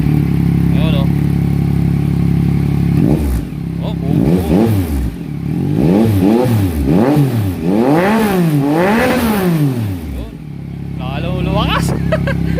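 Yamaha MT-09 motorcycle fitted with an Akrapovic exhaust, its dB killer silencer removed, revs repeatedly in a series of rising and falling blips after a steady idle, loud and close, with people talking over it.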